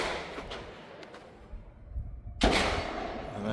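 A single sharp, loud blast from a .410 tactical revolver shotgun fitted with a red dot sight, fired outdoors, stands out after a quieter stretch of faint background noise.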